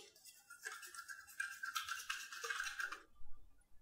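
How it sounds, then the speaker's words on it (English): Flour and milk are whisked together in a cup with a tiny whisk, making a quick, faint, close scraping and rattling that runs for a few seconds before stopping. "Let me mix it well."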